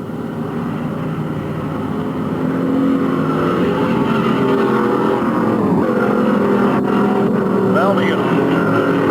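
Race cars in a heat roar around the track, a loud continuous engine drone that swells slightly partway through, under an excited announcer calling the action.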